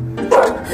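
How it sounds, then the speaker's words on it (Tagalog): A dog barks once, loud and close, in a street or neighborhood setting, with a rough rising tail and ambient noise around it. "Bakit may aso?"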